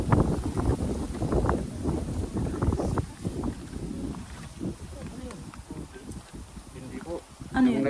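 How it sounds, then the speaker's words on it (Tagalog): Wind gusts through the hills at Sagada, rushing and buffeting the microphone in loud surges that ease off toward the end, while people talk over it. "Sarap ng hangin."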